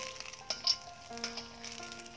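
Oil sizzles steadily as crispy Malaysian-style fried chicken cooks in a pan, a continuous close frying hiss with a few sharper crackles and pops.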